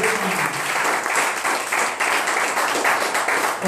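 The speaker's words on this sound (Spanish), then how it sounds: "Aplauda a Dios," Church congregation at a Pentecostal service applauding, dense sustained clapping from many hands throughout, with faint voices mixed in.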